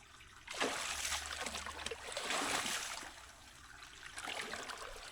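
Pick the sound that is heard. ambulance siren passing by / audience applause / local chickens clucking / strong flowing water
strong flowing water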